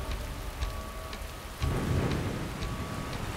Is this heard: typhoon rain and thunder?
yes